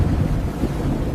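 Ship at sea with engines full ahead, a heavy continuous rumble of wind and water rushing past the hull, loud and steady with no voices.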